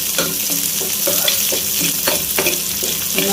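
Small shallots frying in a pan for chicken liver masala, a steady close sizzle with repeated scraping stirs.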